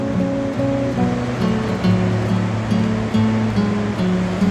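Surf washes steadily against the Portuguese coast on a misty morning, a continuous close roar of breaking water with a low tonal hum running beneath it and no voices.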